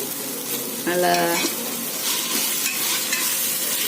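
Mint leaves sauté in a pan for a vegetable biryani-style rice, a steady close sizzle with scraping stirs and a brief clatter near the middle, no talk.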